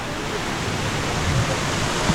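A waterfall beside a Nandi statue at a temple, a loud, continuous rushing roar of falling water, close and unbroken throughout.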